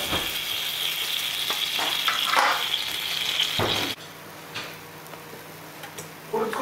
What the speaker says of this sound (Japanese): なんかめちゃくちゃジュージューしてる。